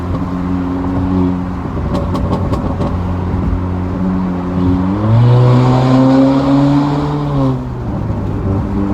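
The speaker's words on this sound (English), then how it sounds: "I'm just gonna floor it there so you guys get the sound of it" A 2019 Honda Accord Sport 1.5T engine with resonator delete revs hard under full throttle, its pitch climbing steadily with loud, rising harmonics, then holding high before easing off near the end.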